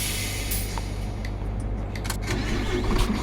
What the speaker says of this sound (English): I'll need to jump back in again and start the ignition up again